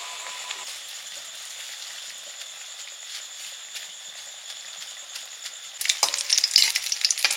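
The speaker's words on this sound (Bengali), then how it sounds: "সবগুলো প্রায় ভাজা হয়ে এসছে" Potato chops fry in hot oil, a steady soft sizzle running throughout and flaring louder and crackling toward the end, with no talking.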